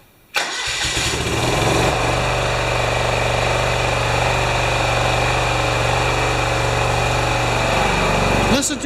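A small primed gasoline engine, in neutral with the choke on, cranks and catches almost at once, then runs steadily at a loud, even idle for several seconds before a brief change at the end.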